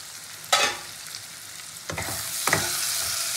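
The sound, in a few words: potatoes frying in oil in a pan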